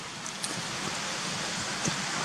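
Steady rain hisses down over a forest, with a few louder drips from the trees now and then, continuous and fairly close.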